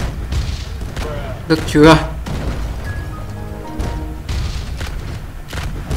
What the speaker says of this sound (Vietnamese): Mình vừa giết một người này. Bằng đại bác luôn ấy.